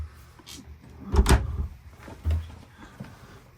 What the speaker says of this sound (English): You can slide these drawers out to access the space inside of this cabinet better